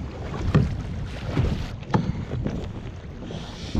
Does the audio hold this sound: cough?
no